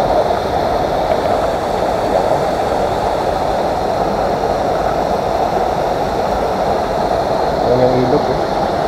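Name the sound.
river flowing on Mount Banahaw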